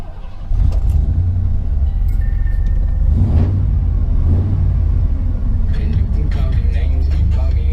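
A classic Ford F150 pickup with a 5.0 V8 cranks and fires up, settling into a loud, deep rumbling idle with a couple of revs swelling midway, heard close up.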